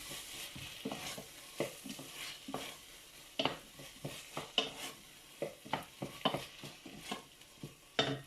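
Spinach sautéing in a pan, with repeated scraping stirs and clinks of a utensil against the pan over a soft, steady sizzle, close and moderately loud, with no talking.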